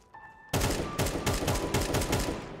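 AK rifle fire in Counter-Strike 2, a loud, sustained burst of rapid gunshots that starts abruptly after a brief quiet moment and rattles on continuously to the end.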